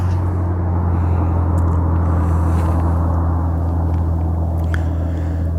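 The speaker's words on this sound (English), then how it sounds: "with this loud truck going by" A loud truck rumbles past close by, a steady heavy low drone that fills the whole stretch without letting up.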